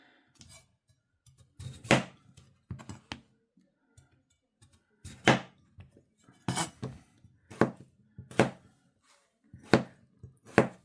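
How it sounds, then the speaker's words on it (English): A knife chops potato into cubes for Irish stew on a cutting board, giving a string of sharp, separate thunks at an uneven pace, close and fairly loud with quiet gaps between the cuts and no talking. "And then the rest of it I cut into cubes."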